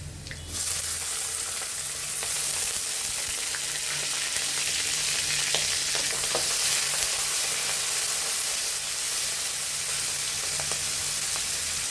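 Chopped onion and shrimp frying in a pan, a steady, close, loud sizzle that holds for the whole stretch with faint stirring scrapes and no talk.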